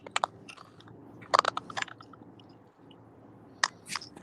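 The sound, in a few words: crunching sound over a live stream call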